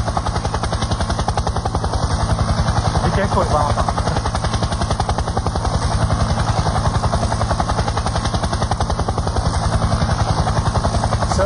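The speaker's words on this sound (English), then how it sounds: "Valentin is going to fly the helicopter inside the audience." Small remote-controlled helicopter flown indoors over an audience in a hotel ballroom in Scottsdale, Arizona; its steady, loud rotor chop and whine run throughout, with a brief spoken warning over it.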